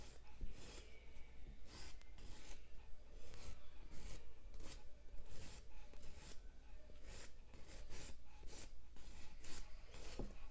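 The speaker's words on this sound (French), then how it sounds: "je prends la lime 180 et je viens griffer l'ongle" A 180-grit nail file scuffing a natural fingernail, steady rapid back-and-forth rasping strokes, very close and fairly faint, continuing throughout with no talking.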